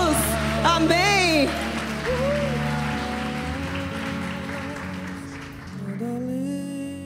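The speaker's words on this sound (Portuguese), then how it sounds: "Uma salva de palmas para Jesus." A church congregation applauds during a worship service, a continuous soft patter beneath sustained keyboard music and a singing voice.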